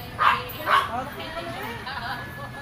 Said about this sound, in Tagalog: Aso na ba yan?